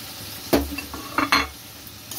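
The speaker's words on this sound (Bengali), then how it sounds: "ফুলকপিটা ভাজা হচ্ছে" Cauliflower and chopped tomato frying in a pan for a cauliflower roast, with a soft steady sizzle and several distinct scraping stirs of a spatula against the pan, close by and with no talking.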